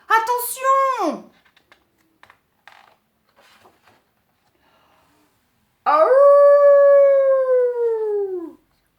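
A wolf in a children's story gives two long, loud howls, each swooping downward in pitch. Short scattered clicks and rustles fill the quiet gap between them. The howls may come from a human voice imitating a wolf.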